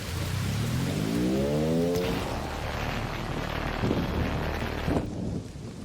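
Rain drums on metal in the video game Arc Raiders, a dense steady patter mixed with a low rumbling drone and a rising tonal whine early on, loud and continuous until it eases near the end.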